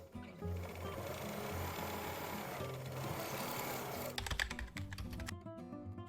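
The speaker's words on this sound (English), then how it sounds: "Start by overlocking the pockets and the apron side seams as shown in the diagram." An overlocker serger runs steadily while sewing the pockets and side seams of a cross back apron, a dense mechanical whir lasting several seconds before breaking into brief irregular clatter near the end.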